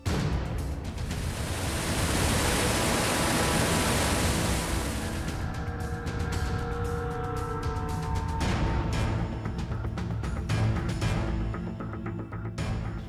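Floodwater of the swollen Jawai river rushing through a flooded town in Rajasthan, a loud, continuous broadband roar that stays steady throughout with no talk over it.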